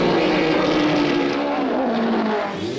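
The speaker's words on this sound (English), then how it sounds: "Coherent speech was impossible over engine noise." A Formula 1 race car engine roars loud and close in a pit lane, a sustained tonal drone whose pitch shifts slightly before easing at the end, with no voices.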